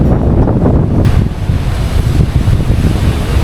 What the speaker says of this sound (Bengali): ওই জায়গাটা সব ঢেউগুলো এসে এমন ভাঙছে